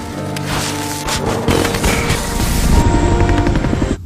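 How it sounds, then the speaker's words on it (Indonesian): A helicopter's rotor thumps steadily and grows louder as it approaches, layered with booming cinematic effects and music, in the zombie film Peninsula (Train to Busan 2). "tiba-tiba entah dari mana helikopter datang"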